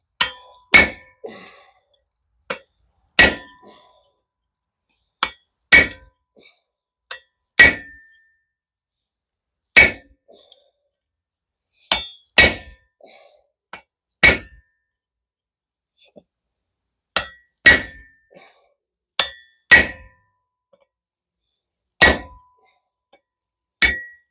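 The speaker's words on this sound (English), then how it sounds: "I'm going to change and just go to a hand chisel." A hand chisel is struck repeatedly with a hammer to cut through hot metal while forging a decorative bracket, giving sharp, ringing metallic clangs in irregular pairs and singles, close and loud with quiet gaps between.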